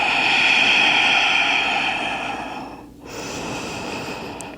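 Slow, steady breaths drawn in and let out during a yoga pose in a slow flow session, close and clear, with a brief pause before the next breath begins.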